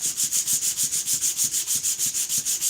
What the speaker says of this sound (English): That was a little bit more sanding